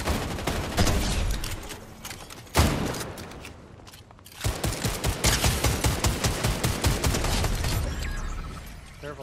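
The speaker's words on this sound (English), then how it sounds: "Another guy that shot behind you too." Fortnite gunfire crackles in rapid bursts, a dense volley at first, then a short lull before a steady string of evenly spaced shots, loud and close.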